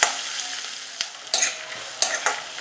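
Onions frying in oil, a steady close hiss of sizzling broken by a few sharp spatula scrapes and clacks against the pan at irregular intervals, with no speech.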